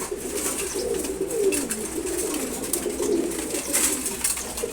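A flock of kept pigeons, racing breeds among them, coos in a low rolling chorus close by as they feed, steady throughout with light scratching and fluttering sounds.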